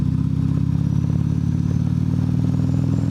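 A turbocharged Harley-Davidson CVO ST with a 135 engine runs steadily up close, a loud, even, throbbing rumble with a faint mechanical clatter and no speech.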